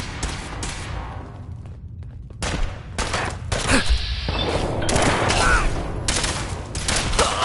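Gunfire from the video game Fallout 4, with bursts of shots and heavy reports cracking out over the full length, loud and close, mixed with in-game effects.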